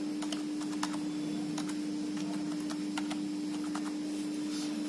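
Steady keystrokes tap on a computer keyboard as a name is entered, a quick irregular run of clicks over a constant electrical hum, close and moderately loud with no talking.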